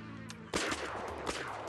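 A single shotgun blast cracks out during a morning bird hunt, sharp and loud after a quiet moment, with its echo rolling briefly afterward in the open air.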